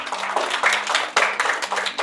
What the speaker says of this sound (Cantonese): 大家拍手嚟過3次以上嘅。